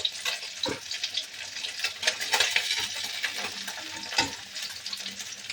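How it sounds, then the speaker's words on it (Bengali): Pabda fish fry in hot oil in a pan with a constant crackling sizzle, broken by a few sharp metallic clinks and scrapes from a turning utensil, close up and without talk. "এইভাবে মাছগুলো আমি ভেজে নিলাম।"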